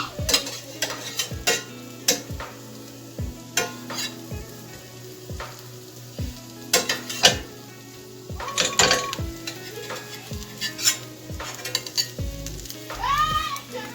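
Plant-based beef burgers fry with a steady close sizzle in a pan, broken by sharp spatula scrapes and clatters as the patties are flipped, with a few louder metallic knocks near the end.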